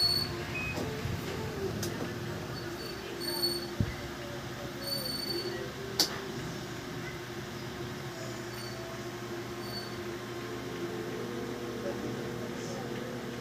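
A Fujidenzo automatic washing machine's dryer hums steadily without spinning, a low, even electrical drone holding unchanged throughout with faint background rattles.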